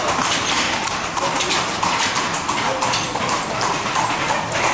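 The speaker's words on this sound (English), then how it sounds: "They charge you about 20 quid for one of these horse and carts." A horse and cart clip-clop along at Petra, with a steady run of hoof clatter heard close and clear against a bright, busy outdoor background.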